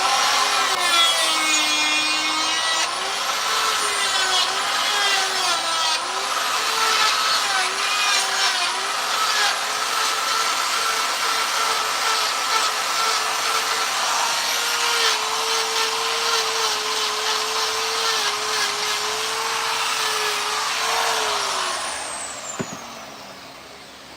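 A Saburrtooth cross cutter burr on a rotary grinder carves wood for a chainsaw carving, producing a continuous loud gritty rasp with a wavering motor whine as the pressure shifts, close up for over twenty seconds before spinning down.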